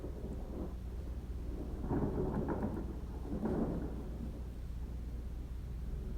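A thunderstorm with rain rolls on in a steady wash of rainfall, with low thunder rumbles swelling twice in the middle at moderate distance, no voices.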